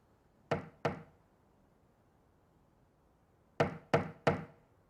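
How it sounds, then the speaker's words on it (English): Forceful knocking on a heavy door: two hard thuds, a pause of about three seconds, then three more sharp, evenly spaced knocks, each loud and close with a short ringing decay. "Oh my, such a forceful knock."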